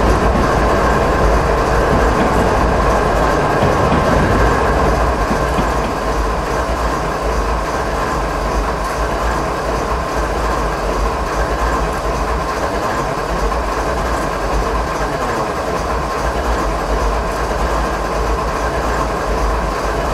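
A train in the Train Sim 2015 game rolls steadily down a roughly 3% grade, giving a loud, continuous rumble with rhythmic clickety-clack of the wheels throughout and no talking.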